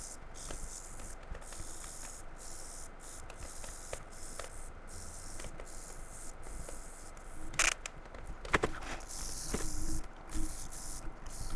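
Frets on a Jackson electric guitar rubbed with a polishing pad, a fretboard guard in place: a close, continuous airy scrubbing hiss broken by short regular pauses between strokes, growing a little rougher near the end.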